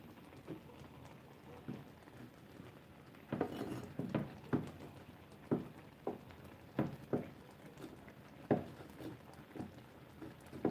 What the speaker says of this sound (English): And I'll continue chopping my cheese.